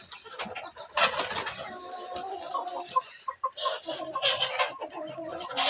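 Egyptian Fayoumi chickens clucking close by, a busy stream of overlapping clucks and short calls in irregular bursts with brief quieter gaps.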